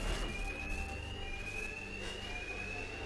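A bank alarm in the Batman Arkham Knight game rings steadily for the whole stretch, a sustained high electronic tone over a dense rumble of background noise. No one speaks.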